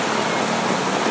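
Dense, steady rain pours down without a break, a constant hiss of drops drumming on a surface close by.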